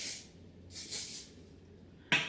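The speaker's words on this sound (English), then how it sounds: "I'm gonna just spray these so they hold." Hairspray misted onto a styled blowout in two soft hissing bursts, one at the start and a longer one about a second later, ending with a sharp click of a close handling noise; no talking.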